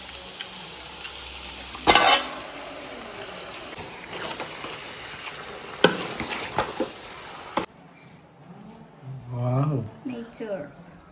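Chicken sizzling and frying in a pan, a steady crackle with a few sharp stirring clatters, then people talking after the frying fades.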